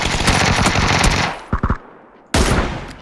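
Automatic gunfire in the video game PUBG: a long loud burst of rapid shots, a few quick single cracks, a short pause, then another loud burst.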